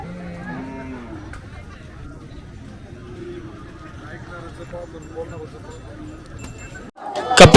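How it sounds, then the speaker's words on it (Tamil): Khillari cattle moo at a busy cattle market in Maharashtra, a few low calls near the start over a steady murmur of crowd noise, ending in a sudden loud clatter. "கபிலா கில்லார் மாடு வகைன்னு பார்க்குறீங்க."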